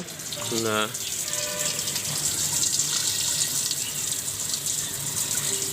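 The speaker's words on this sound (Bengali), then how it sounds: "এবার আমরা ভিতরে একটু পানি দিয়ে দিব" Water runs into a clay pitcher, a steady splashing stream at close range, with a brief voice near the start.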